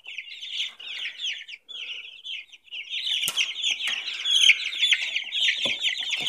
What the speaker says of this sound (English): These are the chicks at 2 weeks old.